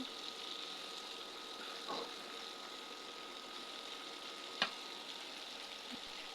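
Steady, faint sizzling of fish frying in oil, a continuous hiss with a couple of soft clicks, no voices.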